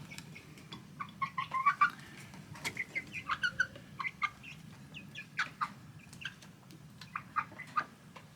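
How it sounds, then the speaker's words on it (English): Chickens cluck and chirp softly in quick, scattered bursts, fairly faint and close, with a low background hum. "they're in here for now until they get a bit bigger and they can fend for themselves with the other chickens."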